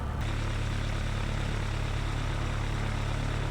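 A Piper Cruiser's propeller engine idles on the ground while its oil warms up, a steady, loud, even drone that holds constant throughout.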